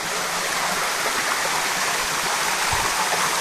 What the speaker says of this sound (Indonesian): Nah itu dia air terjunnya. Air terjun Ibu Giong.